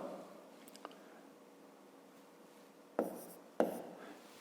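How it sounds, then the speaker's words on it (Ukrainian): A pen writes a number by hand during a fifth-grade maths exercise, heard as soft close scratching strokes with a small tap, then two sharper taps of the pen against paper, in a quiet room with no talking. "Отже, пишемо тоді 2."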